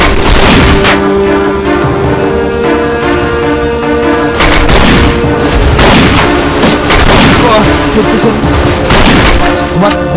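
Sniper rifle and other gunfire from the online shooter game Paperman: loud, dense, repeated shots and bangs crowding a noisy battle mix for the whole stretch.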